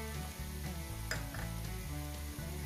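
Finely chopped onions and crushed garlic cloves fry in a pan for a prawn peratal, giving a quiet, continuous sizzle with background music playing underneath.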